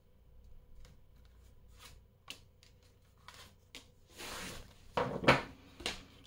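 Tarot-style cards are shuffled and laid out on a table, with soft slides and riffles building into a louder rustling burst, then a few light slaps as cards are placed, close and fairly quiet.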